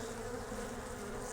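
Honeybees fill an opened hive with a drone-laying queen, their dense, steady buzz close and even throughout, with no voices.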